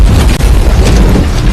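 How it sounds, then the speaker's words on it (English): Mortar rounds exploding on a military base camp at night during war, a loud continuous barrage of deep booming blasts with dense rumbling low end and scattered sharp bursts, no voices. "The explosions hit the camp."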